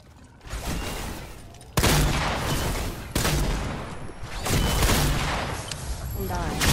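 Gunfire in Fortnite comes in several loud, close bursts of rapid shots, broken by brief pauses, with game ambience between them.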